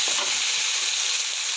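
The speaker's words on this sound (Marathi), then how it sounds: "तर आता थोडी ग्रीन चिली, रेड चिली छान परतून घेऊ।" Green and red chillies sautéing in a hot pan give a steady, close hiss of frying, continuous and even with no pauses, while the chicken soup cooks.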